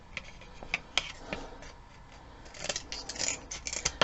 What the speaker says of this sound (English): Alright, so I'm cutting these sticks.